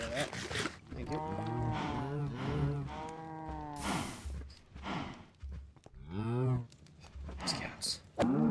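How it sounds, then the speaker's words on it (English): Cows in Minecraft moo repeatedly, several long drawn-out lows one after another, fairly close and clear, with a brief noisy burst midway and a voice talking near the end. "These cows."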